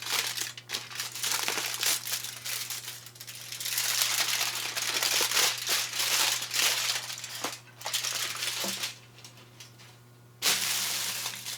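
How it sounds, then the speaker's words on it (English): Aluminum foil from a survival grenade kit is unwrapped and crumpled close by, producing continuous bright crinkling and crackling with brief pauses and a short silent gap near the end. "It's just aluminum foil."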